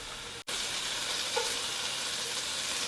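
Celery and onions sautéing in a pan for soup, a steady close hiss of frying that runs continuously with one brief dropout near the start, no voices.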